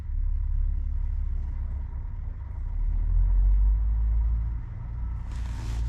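Honda Fit Shuttle hybrid running after a cooling fan replacement, a steady low engine rumble with a brief brighter hiss near the end, no voices.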